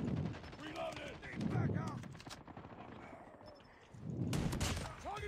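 Several heavy shotgun blasts boom in Call of Duty Mobile, spaced apart with reverberant tails, over a busy background clatter.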